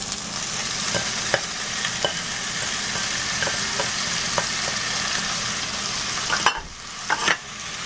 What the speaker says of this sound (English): I'm just going to put it in my pan and mix it and cook it